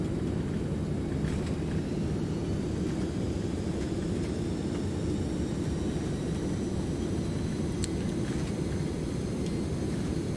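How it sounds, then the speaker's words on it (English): Thrust reversers on an Aerosoft DC-8 jet airliner in the Prepar3D flight simulator after touchdown, a steady loud broadband engine roar with low rumble holding constant throughout, no talk. "reversers engaged"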